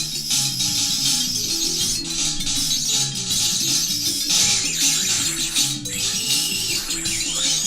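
A section of an electronic music track plays as a dense, continuous wash of bright, noisy texture over busy low-end pulses, loud and steady throughout without talk.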